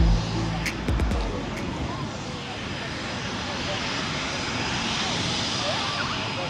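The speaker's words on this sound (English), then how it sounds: "Here comes the airplane, look." An airplane roars overhead near the Sint Maarten shoreline, a broad, sustained engine rumble that holds steady throughout, with a few knocks and brief voices early on.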